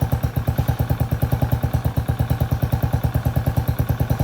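A Venom X22gt 250cc motorcycle engine, just back together after a top-end rebuild and valve job, idles up close with a steady, rapid, evenly spaced thumping beat that holds throughout.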